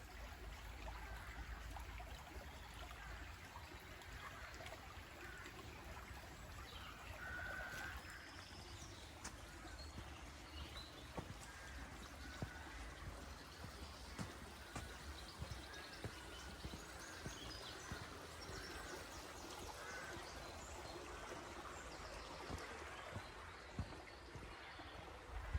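Steady, quiet flow of the River Jordan stream running through old veteran woodland in Dorset, a continuous low water rush lasting throughout, with faint bird chirps at a distance.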